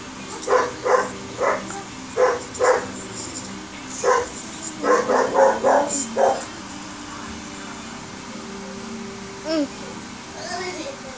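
Dog barking in an action video game, a string of short, evenly spaced barks over game sounds with players' voices now and then.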